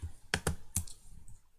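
A few quiet clicks on a computer keyboard, including space bar presses, in a desk setting while modelling a piston crankshaft assembly in CAD software; three distinct taps close together, then faint room noise.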